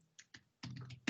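A few separate keystrokes on a computer keyboard, quiet and close, in a short irregular sequence of soft clicks.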